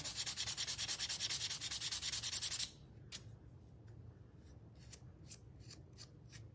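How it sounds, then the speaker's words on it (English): Sanding a small wooden part for a farmhouse-style kitchen mixer decoration: steady, close rasping strokes for a few seconds, then stopping, followed by scattered light scrapes and taps. "I have to sand this little part off too, because this is where the slot is."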